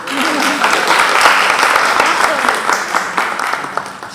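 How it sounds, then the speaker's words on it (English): An online audience applauds at a theatre showcase: steady, dense clapping that carries through the whole stretch, with a voice faintly audible at the start. "unmute to applaud if you want."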